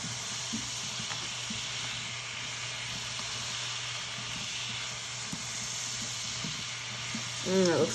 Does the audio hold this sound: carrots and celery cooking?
yes